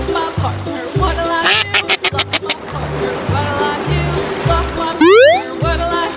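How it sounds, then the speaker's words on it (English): A duck quacks several times in quick succession over steady rhythmic background music, with a splashy watery wash beneath. "Duck."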